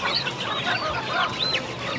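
Poultry on a small home broiler farm, loud and close: a continuous mix of overlapping squawks, honks and clucks from several birds, with no voices.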